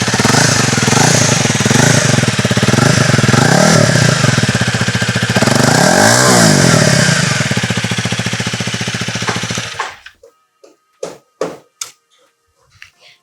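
A Honda CRF 250 Rally motorcycle engine revs loud and close with a deep, bassy roar for about ten seconds, then cuts off, leaving a few short mechanical knocks and clicks.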